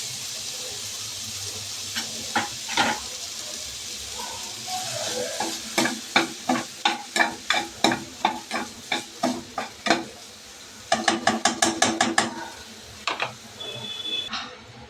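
Mawa, or milk solids, cooks in a pan while being stirred, giving a steady sizzle and rhythmic scraping strokes that build into a run of regular clicks, then a quick burst of scrapes near the end.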